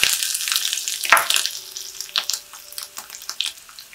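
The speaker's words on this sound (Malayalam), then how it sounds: "ഇനി ഇതിലേക്ക് 2 ചെറിയുള്ളി ചെറുതായിട്ട് അരിഞ്ഞ് വെച്ചിട്ടുണ്ട്," Chopped shallots and fenugreek fry in hot oil for an easy tomato curry, a bright crackling sizzle with bursts of spatter and stirring, close up and without talk.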